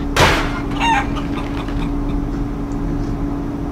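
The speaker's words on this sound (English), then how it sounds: "Oh, there were some chickens." Chickens clucking and squawking in the point-and-click adventure game Day of the Tentacle, a brief loud burst of bird calls near the start over a steady background hum, then fading into quieter game ambience.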